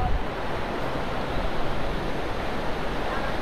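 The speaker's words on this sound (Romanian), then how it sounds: "Niște valuri, vă arătăm niște valuri." Sea waves break on the coast at Garachico, Tenerife, a loud continuous wash of surf roaring steadily with wind buffeting the microphone.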